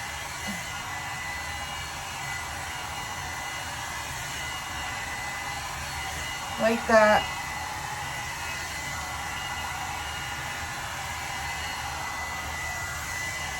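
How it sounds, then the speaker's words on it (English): A hair dryer blows with a steady, loud whoosh the whole way through, and a short voice cuts in briefly near the middle. "This dryer is pretty quick."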